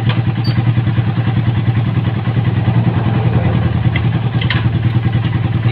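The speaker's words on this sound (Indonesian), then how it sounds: "Nyalakan motornya, Pul. Masukkan giginya, Pul." A motorcycle engine runs steadily and close by, with a loud low throbbing hum and some rattling clatter throughout. No clear start or rising rev can be picked out.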